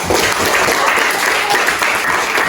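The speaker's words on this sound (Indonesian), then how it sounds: "Kita tepuk tangan semuanya." Schoolroom class clapping hands together in a lively burst, many quick claps overlapping, loud and close, stopping abruptly at the end.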